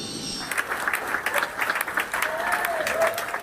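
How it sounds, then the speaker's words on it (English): Applause breaks out in the Wall Street Journal newsroom, a room full of people clapping steadily for several seconds, with a few faint voices and cheers mixed in before it tapers off. "Applause rang out in the newsroom of the Wall Street Journal"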